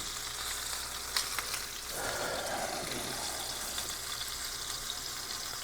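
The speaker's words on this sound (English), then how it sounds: "I'm going to go ahead and get these sort of seared on both sides" Big pork chops sear in a hot pan, giving a continuous close sizzle and crackle with a brief surge of louder spitting partway through, and no talking.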